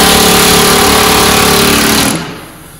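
A pneumatic air hammer rattles loudly and rapidly up close while working on a Nissan 350Z subframe, then cuts off abruptly, leaving a fading hiss.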